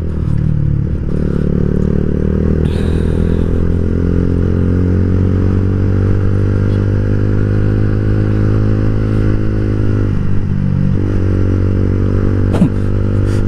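Yamaha Vixion and Honda CB150R motorcycles at full throttle on a night ride, a loud continuous engine drone with steady harmonic whine and wind rush, pitch shifting slightly as speed changes.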